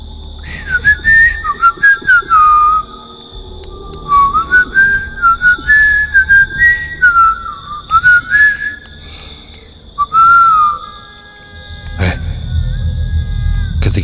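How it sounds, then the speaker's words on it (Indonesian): Someone whistles a wandering tune in bursts of short and drawn-out notes, clear and close, with pauses between phrases and a sharp knock and low rumble near the end. "tiba-tiba saja secara tak sengaja aku bersiul."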